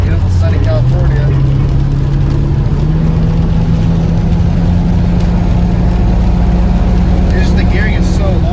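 Mercedes 450SL with a swapped 1JZ engine pulling slowly on long gearing, a steady low drone whose pitch climbs in stages, loud and close, with a voice talking over it.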